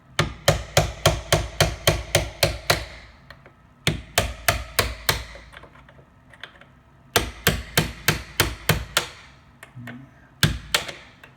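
A hammer tapping a stuck door hinge pin, sharp metallic strikes in quick even bursts of about eight to ten blows, pausing between runs, close and loud with no talking.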